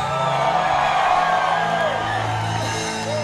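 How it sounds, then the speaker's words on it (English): A church congregation at an evening session of a fasting festival shouts and whoops together in a loud, sustained mass of voices, with yells rising and falling continuously throughout. "Lift your voice and shout."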